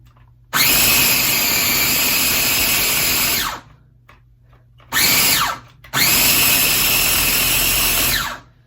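A blender purees bell peppers in three loud whirring bursts: a long run of about three seconds, a brief pulse, then another long run, each starting and stopping abruptly with quiet between.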